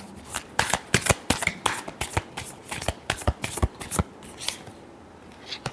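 A deck of tarot cards shuffled by hand, a rapid series of crisp riffling flutters and slaps in quick irregular bursts, close up and clear, fading toward the end.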